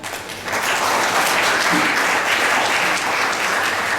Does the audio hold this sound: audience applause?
yes